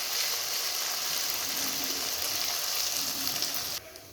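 Ginger-garlic paste frying in a pan of hot oil ahead of mutton keema, a steady close hissing sizzle that drops off sharply near the end.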